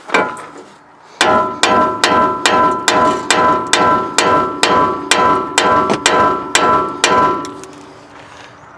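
A stuck tie rod end on a Nissan Titan is struck with a hammer about fourteen times at a steady rhythm, each loud metallic clang ringing close by.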